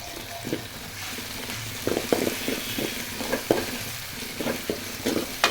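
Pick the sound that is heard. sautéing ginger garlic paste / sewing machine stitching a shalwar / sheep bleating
sautéing ginger garlic paste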